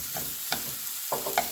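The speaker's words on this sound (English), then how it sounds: "to our skillet, we are going to add some olive oil, and to it, let's add our onions. And we are going to saute them" Onions and ground meat sauteing in olive oil in a skillet for a meat queso dip, a faint sizzle broken by a few quick scraping stirs, close and without voices.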